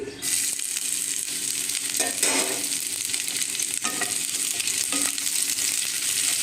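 Jackfruit koftas frying in hot oil with chopped onion, a continuous close sizzle punctuated by a few stirring scrapes and spatula knocks.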